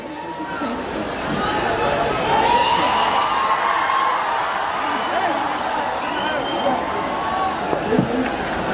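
A large outdoor crowd at a Patna stage show with Allu Arjun and Rashmika keeps up a loud, continuous roar of cheering, clapping and chatter, a broad wash of sound with no break from start to finish.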